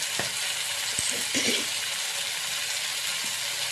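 Chilli powder hits hot fish oil in a pan and sizzles steadily, with a few short spoon clatters and stirring noises near the start over a constant frying hiss.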